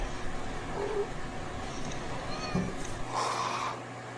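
Cats meowing outdoors behind a house, a few drawn-out wavering meows and caterwauling calls at moderate distance over a noisy background, with no clear talking.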